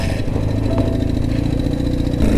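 A 1970s Kawasaki KZ motorcycle engine drones close and loud while riding, a steady mid-pitched rumble with rhythmic firing pulses and a slight rise in revs near the end.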